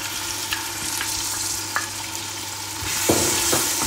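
Tomato paste stirred into onions frying in oil, with a steady sizzle and a few scraping strokes of a spoon against the pan, louder near the end.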